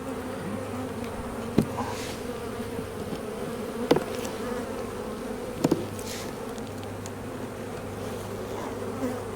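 Honey bees buzz at an opened hive during a swarm-cell inspection, a close, continuous hum with a few sharp knocks and clicks from handling the frames.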